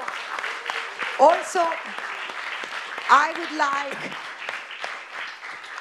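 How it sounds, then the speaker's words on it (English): Audience applause at a commutative algebra conference, steady clapping running under a speaker's voice throughout. "I would like everybody to applaud"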